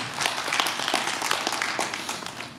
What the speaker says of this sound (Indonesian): Beri tepuk tangan yang meriah buat Tuhan kita.